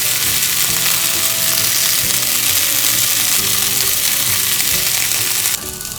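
Thin chicken slices sizzle loudly and continuously in a hot pan, a close, dense frying hiss with no talking, shifting slightly in tone near the end.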